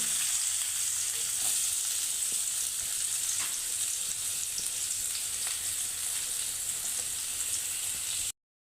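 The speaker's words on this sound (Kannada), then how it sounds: "ಬೆಳ್ಳುಳ್ಳಿ ಕೆಂಪು ಹೋಗುವವರೆಗೆ ಹುರ್ಕೊಳ್ಬೇಕು ನೀರುಳ್ಳಿ ಹಾಕಬೇಕು" Garlic and onion fry in hot oil with a continuous, even sizzle and crackle and faint stirring. The sound runs without speech and then cuts off abruptly at the end.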